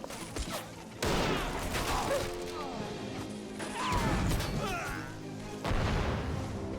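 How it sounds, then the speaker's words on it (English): Explosions and crashing blasts from a grenade in the war video game Men of War, several loud booming bursts with debris and rumbling in between, heard close with no one talking. "He's going to throw a grenade. Grenade out."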